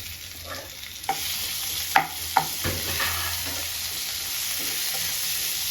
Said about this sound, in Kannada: ನೀಟಾಗಿ ಫ್ರೈ ಮಾಡ್ಕೊಳ್ಳೋಣ ಟೊಮ್ಯಾಟೊ ಒಂಚೂರು ಸಾಫ್ಟ್ ಆಗಲಿ